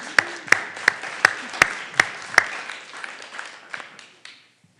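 A church congregation claps for Leanne in a brief scattered round: about seven sharp, evenly spaced claps ring out over a soft bed of lighter clapping, then thin out and fade within a few seconds.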